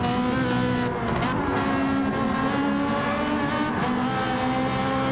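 A race car engine in a PS4 racing game screams continuously at high revs, a loud, steady whine with slight pitch shifts as it holds speed.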